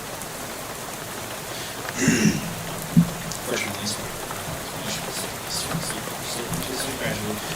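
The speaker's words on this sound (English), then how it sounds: "the sound of rain splattering on the window beside you" Rain splattering on a bus window in the game Shadows over Loathing, a steady soft patter running throughout beneath a voice, with a couple of brief louder knocks.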